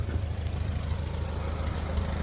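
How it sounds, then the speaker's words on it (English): A 1965 Lincoln red face welder's engine idles in 15° cold weather, a steady low rumble running evenly and continuously at close range with no talk over it. "she's idling good, actually, in my opinion"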